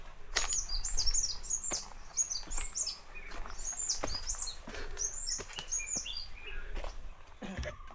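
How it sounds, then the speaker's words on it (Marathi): A bird sings repeated bright, whistled phrases, rising and falling in quick runs, over faint outdoor background with occasional soft knocks, on the Jor to Mahabaleshwar trek. "इथे एक पक्षी खूप भारी शिळ घालतोय."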